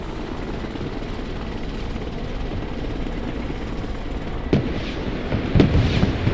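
Helicopters in the video game Broken Arrow, a steady loud rotor drone filling the scene, joined near the end by a couple of sharp impact bursts, with no talk.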